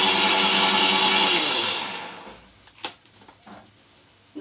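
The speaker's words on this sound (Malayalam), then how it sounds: "ഒന്ന് അരച്ചെടുത്തോട്ടെ." A mixer grinder grinding raw mango chutney paste with curd and water, a loud steady motor whir that winds down after about two seconds, followed by a few light knocks and clatters.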